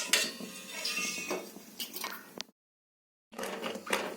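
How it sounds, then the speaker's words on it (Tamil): A metal ladle scrapes and clinks against a pan while stirring thick seembal colostrum milk, a steady run of close clatter broken by a brief full silence before the scraping resumes. "இந்த சீம்பால் நல்லா கடியில் அடி பிடிக்காத மாதிரி கரண்டி வச்சு நல்லா கலக்கிட்டே இருங்க"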